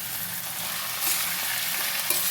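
Meat frying in a pan, a steady soft sizzle with faint stirring that holds at an even level throughout, with no voices over it.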